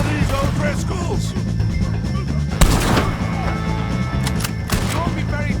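Gunfire in a shootout against O'Driscoll gang members in the video game Red Dead Redemption 2, with sharp bursts and a heavy blast cutting through continuous game music and voices.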